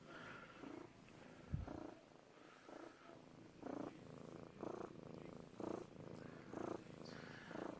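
A friendly, mellow male cat purrs close up in a steady rhythmic series of soft rumbling pulses, quiet and alone.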